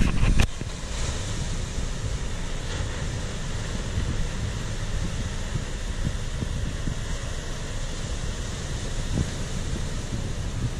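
Stormy Mediterranean Sea off the coast of Israel, with steady loud surf crashing close by and strong wind buffeting the microphone throughout, with no voices.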